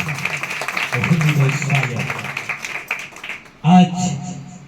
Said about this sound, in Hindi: ताली बजाकर परमेश्वर के लिए जो जीवित खुदा